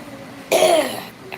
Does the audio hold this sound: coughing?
yes